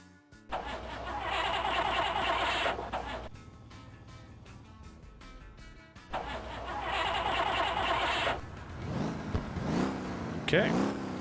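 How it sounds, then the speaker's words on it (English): Car engine in the Motor Town driving game starting and running with a steady drone, then revved with rising and falling throttle sweeps near the end, heard up close and alone. "Okay, so the car is running, giving it some throttle."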